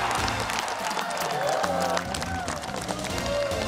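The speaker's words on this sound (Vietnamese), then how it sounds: "một chàng vỗ tay thật lớn chào đón 3 đội người chơi chúng ta" Studio audience at a Vietnamese game show clapping and cheering as contestant teams are welcomed, a dense burst of applause with voices and music underneath.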